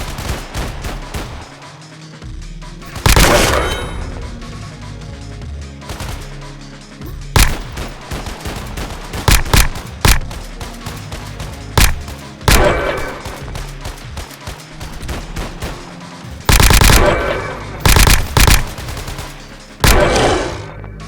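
A P90 submachine gun fires in the Unreal Engine 5 shooter game Project Rebirth, in repeated loud, rapid bursts of close automatic gunfire with short gaps between them.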